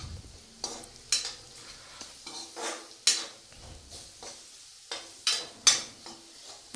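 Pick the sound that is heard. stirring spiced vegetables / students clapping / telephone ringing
stirring spiced vegetables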